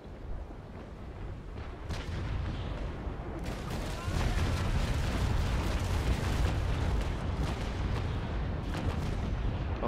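Ship cannons boom in a naval fleet battle in a strategy video game, with heavy continuous rumbling blasts and crackling bursts that grow louder midway and carry on without pause.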